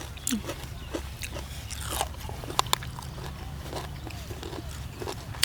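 Close-up crunchy chewing and biting of grilled pork neck, with faint clicks and mouth sounds over a low background hum.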